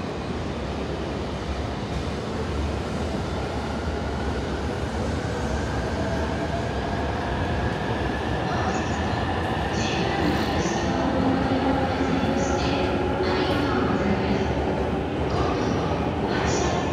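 A Shinkansen train pulls into a platform at JR Tokyo Station, a dense, continuous rumble with rising metallic whine and faint squeals over the busy station hum, steady in loudness throughout.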